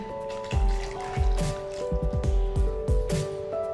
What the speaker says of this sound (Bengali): এবার দিয়ে দিব সাদা সিরকা।